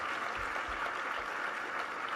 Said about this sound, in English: Let's applaud them up in heaven wherever they are.